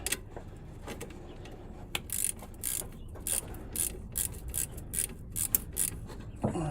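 Quick, rhythmic clicking of a ratchet tightening a bolt during alternator replacement on a 1996 Lexus LS400, a run of close metallic ratcheting bursts over soft background noise.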